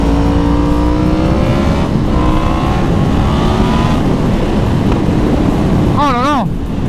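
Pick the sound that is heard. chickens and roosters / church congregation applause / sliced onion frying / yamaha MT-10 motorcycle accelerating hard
yamaha MT-10 motorcycle accelerating hard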